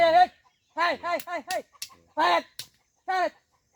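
Chickens in a rural garden in Uganda give a series of close clucks and short squawks in uneven bursts with quiet gaps between.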